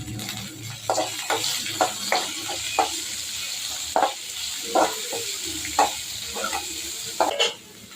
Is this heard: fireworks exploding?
no